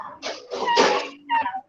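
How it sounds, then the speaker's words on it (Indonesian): A cat meows a few times in quick succession, close by, with short drawn-out cries and a brief pause before the last one. "Suara kucingnya Umar."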